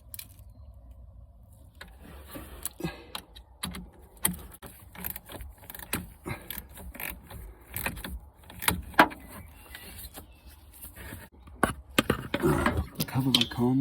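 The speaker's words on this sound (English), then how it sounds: "Now I've just got to tighten the terminal clamp." Close, irregular metallic clicks, ratcheting and scraping from a tool tightening the battery terminal clamp on an Alfa Romeo Giulia's 95 Ah AGM battery, building to a denser burst of clatter at the end.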